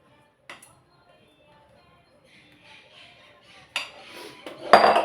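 A metal cake pan filled with cinnamon-spiced banana cake batter is tapped on a counter, giving a quiet knock at first, then two louder clattering raps near the end, with near silence between.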